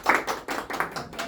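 Audience in a lecture hall claps in a short, uneven burst, a handful of distinct claps close together at moderate loudness, without talk.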